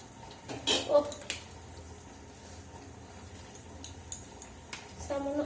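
A utensil scrapes and clinks in a pan while aloo dum is stirred with sauce, with quiet scattered taps and a louder clatter near the start and end.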